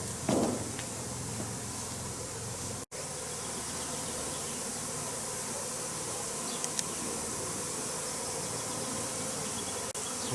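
A honeybee swarm hums in a dense, continuous drone as it moves into a hive. The buzzing stays steady and moderately loud throughout, with a brief rustle near the start and no speech.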